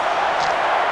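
A wrestling video game crowd in Smackdown vs RAW 2006 roars loudly and continuously, a dense, even wash of cheering with no break over a short moment.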